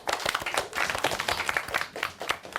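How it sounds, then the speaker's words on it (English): Primary school pupils applaud a classmate in a maths lesson, a short burst of brisk, fairly close clapping from a small group that lasts a couple of seconds. "Let's give him a big clap."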